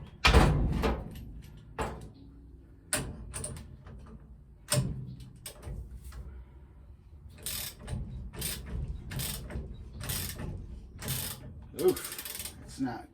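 Mechanical puller being worked on a bearing of a 1956 Chevy truck, a series of separate ratcheting clicks and metallic knocks at irregular intervals with quieter gaps between.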